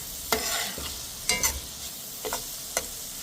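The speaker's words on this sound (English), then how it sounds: "I'm just going to let these saute a little bit" Onions sautéing in a pan with a little salt, a soft steady sizzle broken by four or five distinct scraping stirs of a spoon, heard close up.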